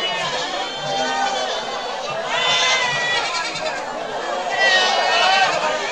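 Many native-breed goats bleat over one another in a noisy crowd at a goat market, with people's voices mixed into the background chatter.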